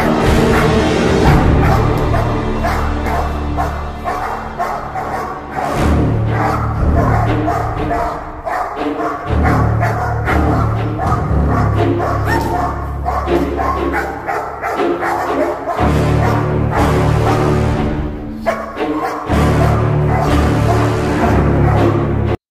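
Protection dogs barking and yipping over a dense, loud bed of continuous sound, with whimpering mixed in throughout.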